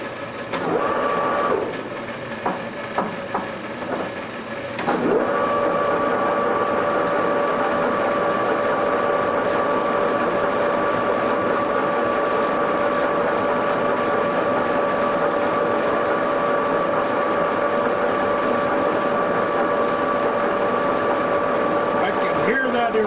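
A lathe cuts a Model A Ford flywheel, with a steady mechanical whine and hum that settles into a constant tone after some early clunks and shifting, running loud and continuous.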